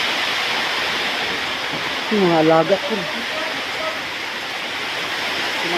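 A downpour of heavy rain roars as a constant, dense wash of noise, while someone speaks briefly partway through.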